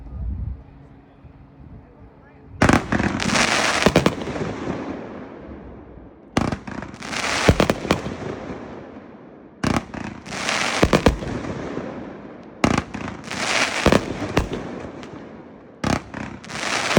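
A 500-gram Pyro Predator Candy Crush consumer firework cake fires at a fireworks demo, launching repeated rounds of sharp bursts and crackling roughly every three seconds, with voices in the crowd.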